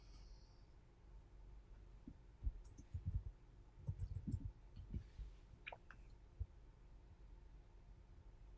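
Soft, quick keyboard typing close by in a quiet room, a brief cluster of light irregular clicks and taps over a faint steady hum, with no voices.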